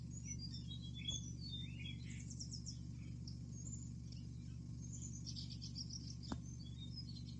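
Peahen chicks and wild birds chirp and tweet on a winter morning, scattered high calls and brief trills at a moderate distance over a steady low background hum, with no talking.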